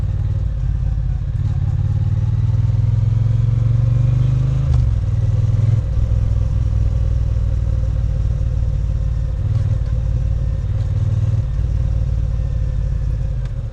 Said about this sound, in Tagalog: nakaka-addict yung tunog ng ano niya, exhaust niya.